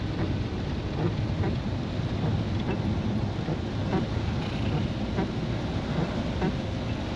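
Steady rain drumming on a camper van during a cold, wet day, a dense continuous patter with low rumbling gusts, close and fairly loud with no voices.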